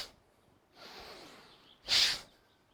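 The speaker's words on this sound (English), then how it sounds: "inhale, and exhale forcefully out" A forceful breath is pushed out through the nose during a breathing exercise, heard as one sharp, loud snort-like exhale. A softer inhale comes before it.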